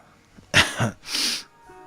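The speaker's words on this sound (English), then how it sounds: "Hopefully I'm not sneezing anymore" A single abrupt sneeze with a sharp intake and forceful burst, followed by a second breathy exhalation, close up and alone in an otherwise quiet room.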